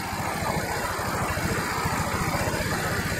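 A Gy6 150cc scooter engine idles close by, a steady low putter with rapid even pulses and a faint mechanical whir, running alone without talk.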